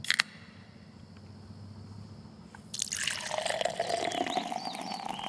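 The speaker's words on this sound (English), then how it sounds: "At Schaefer Orchards, our hard cider is so good, it pours itself." Hard cider pours into a glass, opening with a few drips before a steady, close liquid fill begins and carries on to the end with a rising, bubbly gurgle.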